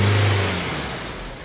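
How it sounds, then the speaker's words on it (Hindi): A BMW X1 engine, just after a catalytic converter cleaning, revs briefly up close, a loud rising vroom that eases off within about a second and a half, with no voices. "ये देखिए पिकअप पूरा आ चुका है गाड़ी का।"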